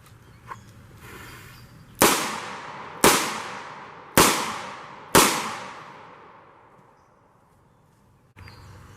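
Four sharp handgun shots fired one-handed from 6 yards ring out about a second apart, each a loud crack with a decaying echo, framed by quiet moments before and after.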